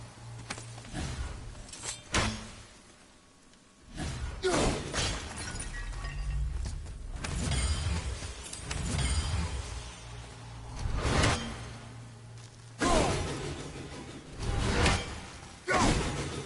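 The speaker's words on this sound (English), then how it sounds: "Stop smashing my pottery." Pottery smashing in the video game God of War, with repeated sharp shattering crashes, whooshes and thuds arriving in bursts over a steady game backdrop, several loud impacts spread across the stretch.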